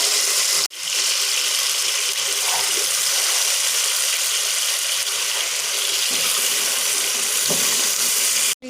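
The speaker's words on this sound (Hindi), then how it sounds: "अब मसाले में डालकर अच्छे तरीके से इसको भूनेंगे।" Beef chunks frying in masala in a pot while making restaurant-style broken rice biryani: a loud, steady sizzle and hiss runs almost unbroken, with one brief cut near the start.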